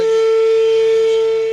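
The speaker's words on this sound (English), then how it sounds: "We just happen to like tornado sirens." A tornado siren sounds at a gathering of siren enthusiasts, a loud, steady, unbroken tone held throughout that dominates everything else.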